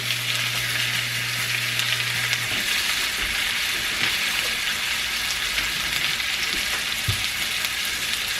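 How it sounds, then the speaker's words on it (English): Tilapia fillets sizzle and fry steadily in a hot pan, a close, continuous crackling hiss that stays even throughout, with a low hum fading out early and a few soft clinks. "And then I'm going to add my fish right in."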